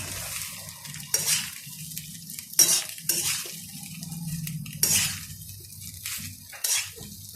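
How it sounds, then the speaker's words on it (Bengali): Rice being stir-fried in a home kitchen pan for soya pulao, with repeated scraping and stirring clatters of a utensil against the pan over a low sizzle, moderately close. "এবার এইটা ভাতটা একটু ভাজি"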